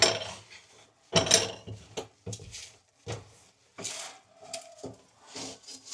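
Scraping, wiping and light clattering of pots and utensils while a stove is cleaned in a village kitchen, intermittent bursts with quiet gaps between, fairly close but soft.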